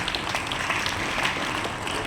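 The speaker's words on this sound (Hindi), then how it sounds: "जोर से तालियों से स्वागत करें लड़कियों का" Audience applause at a school Republic Day function in Kathua, welcoming the girl anchors; steady dense clapping across the whole short stretch, fairly even and moderately loud with no voices on top.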